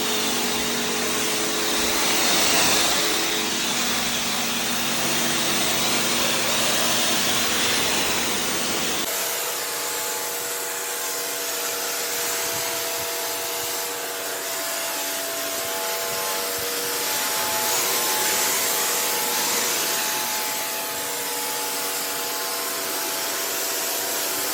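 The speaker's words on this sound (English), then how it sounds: "So we're going to jet wash it." A steady hiss of a pressure washer spraying hard onto Indian sandstone paving, continuous and close, with the pitch shifting slightly as the jet moves across the surface.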